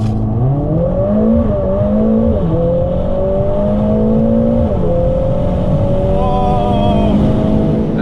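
A modern Audi RS3 and a Mercedes-AMG A45 S, both turbocharged performance hatchbacks, accelerate hard side by side in a drag race. A loud, continuous engine roar rises in pitch through the gears, with brief dips at each shift and steady wind rush.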